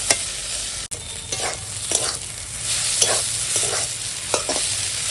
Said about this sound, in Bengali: এখন এইভাবে নেড়ে নেড়ে লটিয়া মাছ রান্না করবে